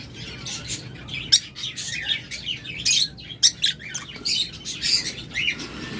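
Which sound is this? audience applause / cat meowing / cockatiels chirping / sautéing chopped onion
cockatiels chirping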